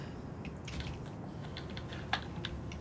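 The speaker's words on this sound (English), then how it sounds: "You'll probably hear my mouse and keyboard going off." Computer keyboard keys clatter in soft, irregular bursts, with a few sharper clicks from a mouse, close and fairly quiet against steady background hiss, during a Minecraft server session.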